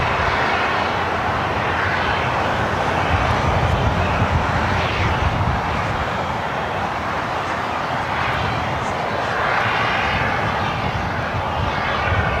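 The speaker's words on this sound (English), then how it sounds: "the Lufthansa Queen heading to the gates of Tom Bradley" A Lufthansa Boeing 747 airliner taxiing at Los Angeles International Airport toward the Tom Bradley gates gives off a steady, loud, broadband engine roar that stays even throughout.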